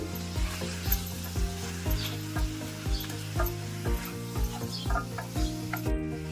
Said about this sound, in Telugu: ముందుగా ఫ్రై చేసి పెట్టుకున్న క్యాప్సికమ్, దీనిని చక్కగా కలిసేలా కలుపుకోవాలి